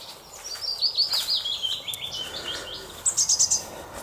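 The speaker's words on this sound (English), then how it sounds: "The bird song is incredible." Morning birdsong in a wood, with many chirps and tweets at once, some near and some farther off, and a brighter burst of rapid calls toward the end.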